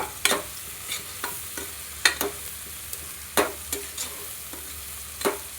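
Goat intestines frying in oil with onion and chilli, a soft continuous sizzle broken by sharp, irregular spoon-against-pan clanks.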